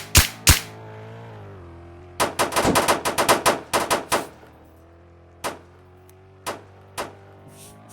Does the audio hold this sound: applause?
no